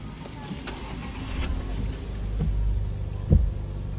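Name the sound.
car engine starting after alternator repair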